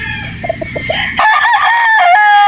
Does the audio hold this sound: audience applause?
no